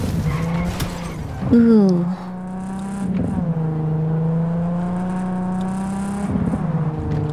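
Cyberpunk 2077 car driving with tires skidding, a loud continuous engine drone whose pitch sweeps up and down as it revs and slides, with a brief vocal exclamation over it.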